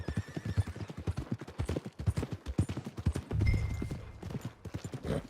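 Horse hooves clip-clop steadily in Red Dead Redemption 2, a brisk close rhythm with a brief snort or whinny partway through, over quiet game ambience.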